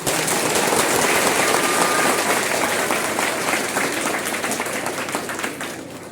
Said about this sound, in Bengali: সবাই মিলে জোরে একটা হাততালি দিন